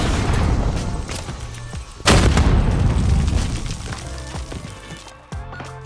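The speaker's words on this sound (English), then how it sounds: "Oh, grenade. I threw that grenade a while ago." A grenade goes off in Call of Duty Modern Warfare, one loud close boom with a rumbling tail, followed by scattered gunfire and game noise.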